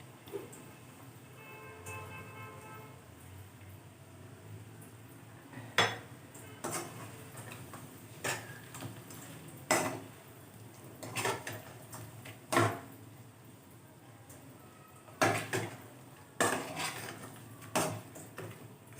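Chicken frying in a pan for a spicy chicken fry: sharp metallic clinks and scrapes of a utensil against the pan come in irregular bursts over a low, quiet background, with no voices.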